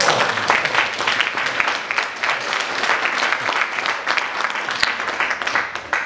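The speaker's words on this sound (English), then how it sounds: "How about a round of applause to you?" Audience applause at a talk in Vancouver, BC, a dense, steady patter of many hands clapping at close range that keeps going without a break.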